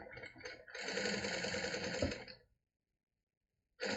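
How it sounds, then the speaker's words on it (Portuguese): Sewing machine running a quick topstitch on fabric with conventional polyester thread at 2.5 mm stitch length, a steady close whir for about two seconds, then silence before it starts again. "Vou aqui fazer um pesponto rápido."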